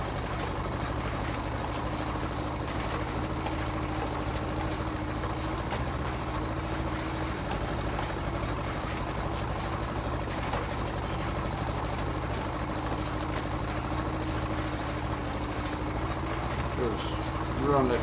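A tractor pulling a seed drill across a field in a farming video game, a steady droning engine hum at constant speed, continuous and close, with a voice talking over it.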